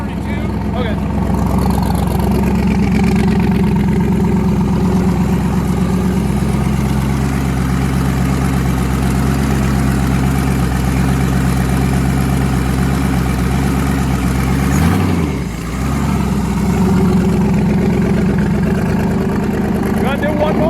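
A car's newly fitted twin-turbo engine idles after its first start, a loud steady rumbling drone with a brief dip and blip near the end, with people talking over it.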